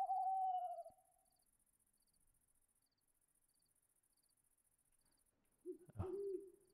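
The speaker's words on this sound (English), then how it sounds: "And the owl. You hear that? The owls." Owls hooting in a modded Minecraft RPG world: one drawn-out hoot opens the clip and a second hoot follows after a long quiet gap, both fairly near against faint steady insect chirps.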